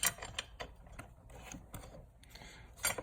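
A 10mm wrench ratchets and clicks in quick, faint bursts while loosening the battery hold-down bracket on a Mazda CX-7, close and quiet with scrapes of metal between clicks.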